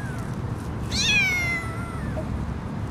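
A kitten gives one clear, high meow that rises then slides downward, close and distinct over a low background murmur; no talk.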